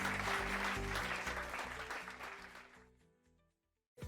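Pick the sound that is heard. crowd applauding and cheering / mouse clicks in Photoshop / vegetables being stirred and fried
crowd applauding and cheering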